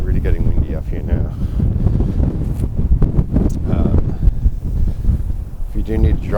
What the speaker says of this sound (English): really getting windy up here now